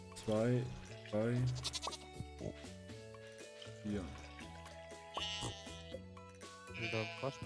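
Farm goats in the Stardew Valley video game bleat in short wavering calls, several in quick succession, mixed with chimes and game music while a person talks over the top.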